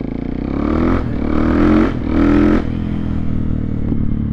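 A Husqvarna FE450 dirt bike with newly fitted suspension springs revs close by, its thumping single-cylinder engine rising in two sharp throttle blips over a steady idle.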